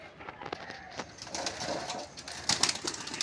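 Pigeons in a loft give low murmuring coos, near and fairly quiet, with a few sharper flutters and scuffs toward the end.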